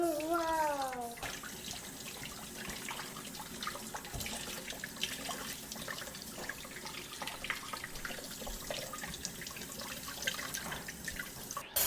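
Running water from a tap rinsing homemade butter in a sink, a steady splashing wash with some dripping, constant and close throughout, with brief voices at the start.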